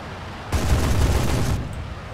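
Rapid jet cannon fire from a MIG-9 in War Thunder, a dense sustained burst of gunfire lasting about a second, loud and close, starting abruptly and cutting off cleanly.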